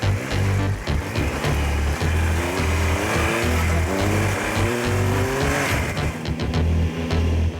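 Triumph Tiger Explorer adventure motorcycle riding off-road, its engine a loud, close, steady drone that throbs and pulses with throttle changes, with wind rush over it throughout.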